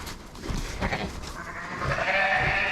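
Sheep bleat in a hot farm pen, a couple of close, wavering calls over a bit of rustling.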